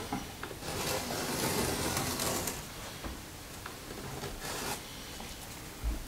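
A pencil scratches and rubs along a wooden cleat for a mantel shelf in uneven strokes, with a few pauses and light taps.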